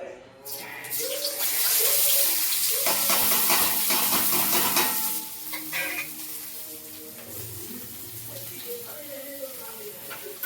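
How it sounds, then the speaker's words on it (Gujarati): Onions sizzle and crackle in hot oil, with scraping and stirring in the pan and a voice talking over it. "હવે સરસ મજાની ડુંગળી ફ્રાય કરીશું"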